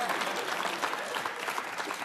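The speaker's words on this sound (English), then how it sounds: "That gets an applause." A comedy show audience applauds steadily for a couple of seconds, a dense, even wash of clapping from the crowd.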